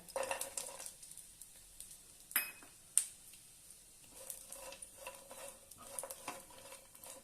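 Dry coconut being stir-roasted in a pan, soft faint rustling and scraping of a spatula with a couple of sharp clicks against the pan, quiet and intermittent.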